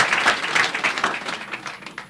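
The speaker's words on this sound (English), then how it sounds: "Make una clap for her." Studio audience on a Nigerian call-in radio programme clapping for a woman, a dense patter of many hands filling about two seconds and tapering slightly toward the end.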